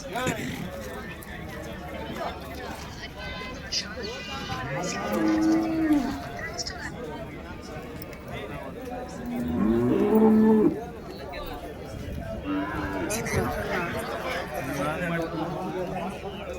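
Cattle moo at a busy livestock market, with two clear, drawn-out moos at moderate distance over a constant crowd murmur and nearby talking.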